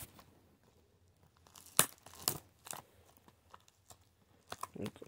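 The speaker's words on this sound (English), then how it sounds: "Unwrap it." Plastic wrap being torn and peeled off a Blu-ray case, quiet crinkling with a few sharp rips and rustles in irregular bursts, close and faint.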